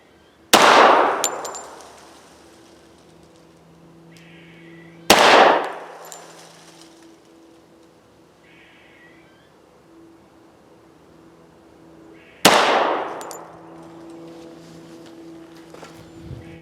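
Three loud, sharp gunshots from a pistol and rifle firing lubed bullets during a velocity test, each ringing out and decaying over a couple of seconds, spaced several seconds apart outdoors, with faint equipment tones between.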